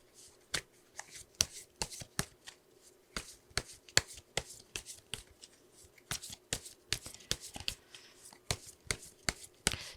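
Tarot cards are shuffled and drawn in a quick run of crisp riffles, flicks and snaps, close and fairly even in rhythm, with no talking.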